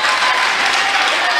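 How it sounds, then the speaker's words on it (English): Basketball crowd at a high school game applauding in a packed gym, steady dense clapping and crowd noise throughout, fairly loud with no clear break. "now our crowd's getting fired up"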